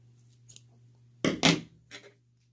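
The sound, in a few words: scissors cutting yarn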